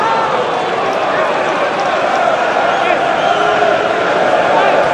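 Football stadium crowd at a 2004-05 Premier League match, Chelsea vs Newcastle United, a steady dense roar of many voices that holds loud and unbroken throughout, with no single voice standing out.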